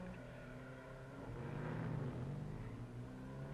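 A Standard 10 rally car's engine during the 1959 Alpine Rally: a faint, distant motor drone that swells briefly to a louder rev in the middle, then eases back.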